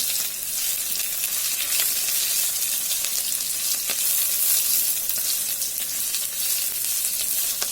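Chili, garlic, carrots and radishes stir-fry in a hot pan, a loud, steady sizzle with scraping stirs throughout, close up and with no voices.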